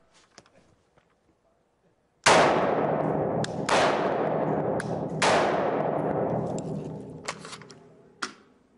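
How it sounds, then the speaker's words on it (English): An AR-15 rifle fires at a shooting range: three loud, sharp shots with long ringing echoes, followed by a fourth weaker report, after a quiet stretch of faint clicks. "So I'm going to shoot it real quick so that you can see the impact in the target that it will make."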